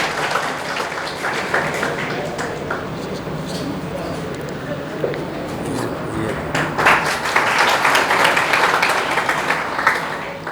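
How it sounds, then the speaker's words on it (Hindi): An audience at a coaching institute event claps continuously to welcome a student selected in NEET 2022, a steady crowd applause that swells toward the end, with voices talking over it. "तालियां बजती रहनी चाहिए भाई"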